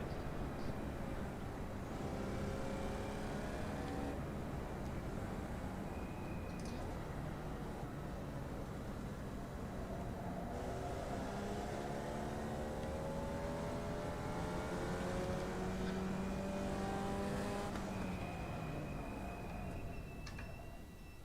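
Several Formula Vee race car engines in a video game at Oulton Park, droning and rising in pitch together, with a steady continuous roar and no talking.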